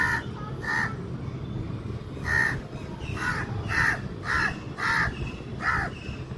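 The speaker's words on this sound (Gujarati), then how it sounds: "ઉપર આ કાગડો ક્યારનો કા મંડાણો" A crow caws repeatedly in short harsh bursts, some doubled, over a steady low rumble of background noise.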